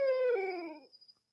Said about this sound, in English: Is that a barn owl or a barred owl?